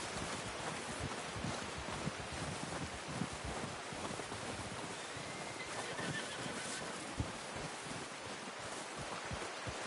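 Horse hooves clip-clop and a neigh in Red Dead Redemption 2, set in a windy, noisy outdoor scene with a steady wash of wind and ambience throughout.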